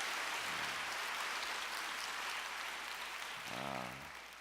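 Church congregation applauding in a worship service, a steady broadband wash of many hands filling the space, with a brief voice rising near the end as the clapping fades.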